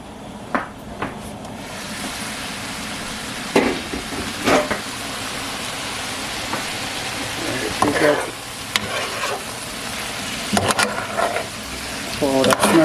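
Shrimp fries in a hot pan as part of a seafood medley, with steady sizzling under occasional stirring scrapes and clanks of utensils against the pan.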